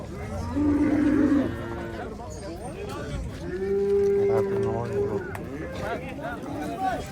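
Two long, low moos from a fat cow, one early and a longer one midway, close by over a noisy outdoor livestock market background with people talking.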